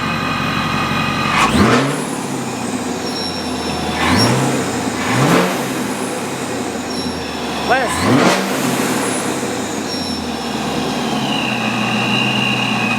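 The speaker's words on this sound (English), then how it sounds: "My boy's gonna rev it for us, so let's see." A ProCharged supercharged Camaro SS engine revs several times, each sharp rise in pitch falling back to a rough idle, loud and close, with voices talking in the background.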